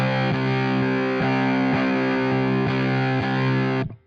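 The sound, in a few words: guitar through Dewil fuzz pedal with gate off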